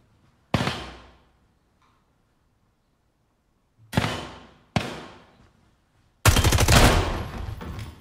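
Gunfire in the tactical shooter Ground Branch during co-op play: three sharp, loud single shots with decaying tails, then a dense, sustained burst of rapid automatic fire near the end, with silence between.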